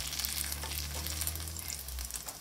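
Potato fritters with minced meat sizzle steadily in hot oil in a frying pan, a continuous close crackle and hiss with no voices.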